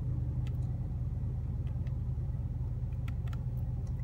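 A 2016 Ford F-350 Super Duty XLT diesel pickup idling with a steady low rumble, close and continuous, with a few faint clicks and ticks over the top and no talking.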